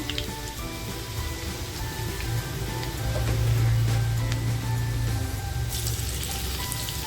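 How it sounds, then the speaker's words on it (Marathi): Garlic, Kashmiri chili powder, homemade masala and turmeric drop into hot oil for a tempering and give a steady, crackling sizzle that swells louder midway through, then holds a bright fizzing hiss toward the end. "तेल टाकलेलं आहे लसूण टाकते इकडे ना मी काश्मीरी मिरची पावडर घरगुती मसाला आणि हळद घेतली आहे ती फोडणीमध्ये टाकते"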